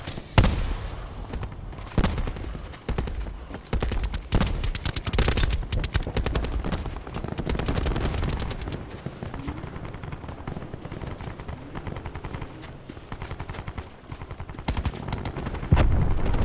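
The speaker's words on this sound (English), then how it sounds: "I'm getting shot from the hill, it looks like." Rapid automatic gunfire and scattered single shots in the video game Call of Duty Black Ops 4, dense bursts at moderate distance continuing throughout, with little talk over them.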